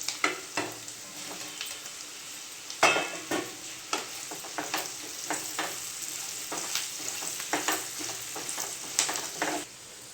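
Pre-fried pieces tossed with turmeric in a sizzling pan for a tangy tamarind stew, steady frying hiss under frequent spoon scrapes and clacks of stirring, close and without talk.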